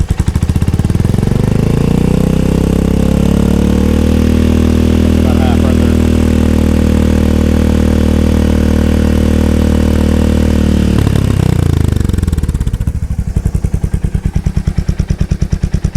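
Royal Enfield Hunter 350 single-cylinder motorcycle fitted with a Coffman's shorty slip-on exhaust, revved up and held steady at mid-range for several seconds, loud and close, then dropping back to a lumpy idle; someone speaks briefly.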